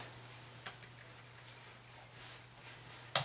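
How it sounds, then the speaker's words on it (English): A few scattered keystrokes on a computer keyboard while entering the coaching note "overstriding": faint, sparse clicks over a quiet room hum, ending with one sharper, louder tap. "I simply type in overstriding"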